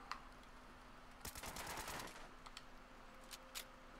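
An assault rifle in a video game, with a rapid burst of gunfire followed by quick mechanical clicks of a fast reload, fairly faint over a steady background hum.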